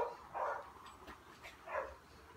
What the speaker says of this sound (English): dogs are going mad for some reason